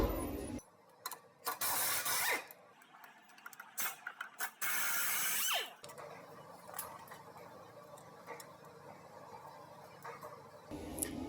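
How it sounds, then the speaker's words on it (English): An impact gun loosens a 21 mm brake bolt on a 2013 Chevrolet Malibu during a front brake job, firing two loud, rattling bursts of a second or more each, followed by quieter mechanical clicks and handling noise. "I'm gonna go ahead and use the impact gun"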